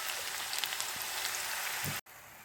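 Onion pieces frying in hot oil for a tamarind-leaf chicken curry, a continuous hissing sizzle throughout with a brief cut near the end.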